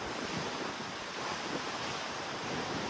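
Strong wind on an open cruise ship deck in the middle of the ocean roars steadily into the microphone as a dense, unbroken rush, loud and close, with no other sounds standing out.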